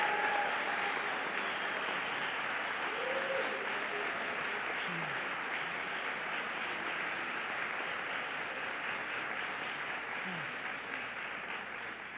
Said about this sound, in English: Let's give them all a collective round of applause